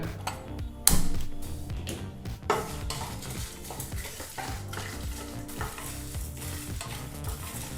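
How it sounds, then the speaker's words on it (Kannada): Black pepper and other spices are dry roasted in a pan on a low flame and stirred steadily, with soft sizzling, scraping and a couple of sharp clinks of the utensil against the pan. "ಈ ಎಲ್ಲ ಪದಾರ್ಥನೂ ಲೋ ಫ್ಲೇಮ್ನಲ್ಲೇ ಮೂರರಿಂದ ನಾಲ್ಕು ನಿಮಿಷ ಚೆನ್ನಾಗಿ ಡ್ರೈ ಆಗಿ ಹುರಿದು ಪುಡಿ ಮಾಡ್ಕೋಬೇಕಾಗತ್ತೆ"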